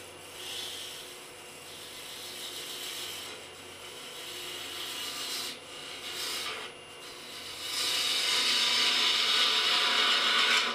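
A cutting tool shapes a wooden bowl spinning on a lathe, a continuous rasping, scraping rub that rises and falls with the cuts and grows louder toward the end, with no talk.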